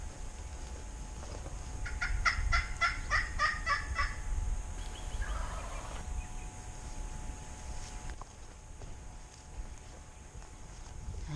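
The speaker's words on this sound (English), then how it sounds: "we're walking to them and calling, and they keep gobbling back" Wild toms on public land gobbling back in the distance, a fast rattling gobble followed by another call, faint over footsteps and rustling from hunters moving through the woods.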